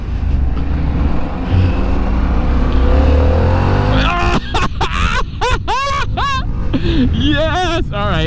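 A Harley-Davidson Pan America ST motorcycle with its 150-horsepower Revolution Max engine rumbles steadily, then revs hard in several sharp rising bursts as it accelerates, loud and close.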